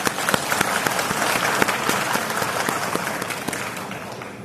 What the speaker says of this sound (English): So we should give our Hong Kong a round of applause.